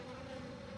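Honeybees agitated during a hive inspection on a chilly morning give off a steady, low droning buzz, close and continuous through the brief moment.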